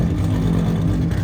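A BMW M3 engine idles steadily up close, a deep, even rumble with a constant low throb and no revving.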